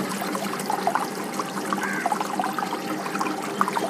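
Aquarium water drains out steadily during a water change, a continuous pouring trickle that holds fairly even with small splashy peaks throughout, close by and alone.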